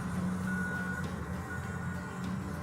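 Toy dump truck sounding steady reversing beeps, a bright repeating tone over a busy background hum, fairly faint and continuous.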